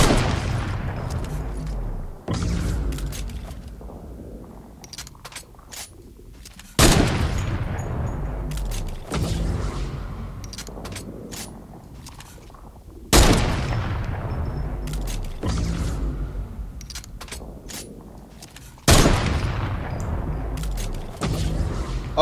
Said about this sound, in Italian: Sparo un paio di volte.